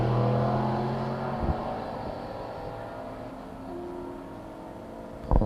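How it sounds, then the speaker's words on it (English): A Plymouth race car circles the track at a historic racing event at Portland International Raceway, its engine a steady mid-distance drone with shifting tones, broken by a couple of short sharp knocks, the last one louder, and no talk. "you see that Plymouth coming around, and it looks like he's just out for a Sunday drive"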